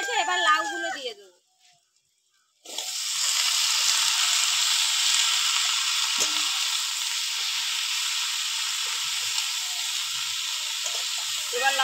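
Chopped bottle gourd drops into a pan of fried onion and green chilli and erupts into a loud, continuous sizzle that holds steady to the end, after a brief voice and a short pause.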